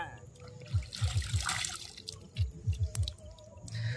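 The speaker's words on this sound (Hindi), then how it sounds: "आप देख सकते हैं कि अजीत भैया भी अभी धोने लग गया है।" Pond water splashes and drips outdoors as a person washes, with a string of small, close sloshes and trickles in uneven bursts and faint background noise.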